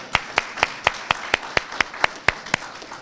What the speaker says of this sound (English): you're welcome to applause if you want to